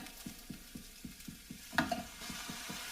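Rice being mixed with a teaspoon of vinegar, giving quick, regular scraping and stirring strokes at a steady rhythm, close but fairly soft, with one sharper clatter partway through and no talking.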